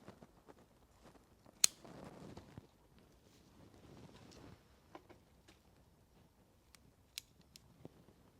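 Scissors snip and trim the dense foliage of a Cryptomeria bonsai being shaped into a cone, giving a few sharp isolated clicks spaced irregularly over a quiet, faintly rustling background.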